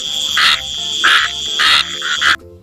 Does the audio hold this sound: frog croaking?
yes